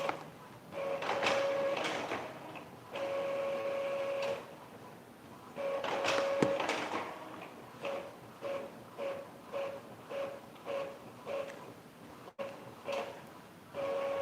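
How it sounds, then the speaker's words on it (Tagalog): An inkjet-style home printer prints school modules, whirring in long passes and then shorter rhythmic carriage strokes with brief pauses, fairly close and steady for the whole stretch. "Nagpiprint ng modules para bukas."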